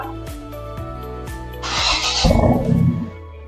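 A few rhythmic cranking ticks, then a 2020 Ford Ranger pickup engine with an aftermarket HKS Legamax dual side-exit exhaust catches with a loud, raspy roar that rumbles deeply for a moment before easing back.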